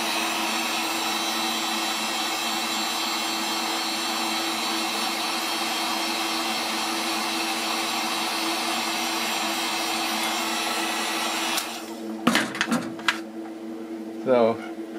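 A heat tool warming a soft vinyl toy hat blows with a steady whirring hum for about eleven seconds, then cuts off, followed by a few clattering handling knocks.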